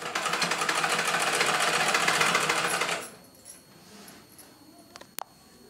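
A sewing machine stitching a cloth strip runs in a steady fast rattle for about three seconds, close and fairly loud, then stops, leaving a quiet room and one sharp small click near the end.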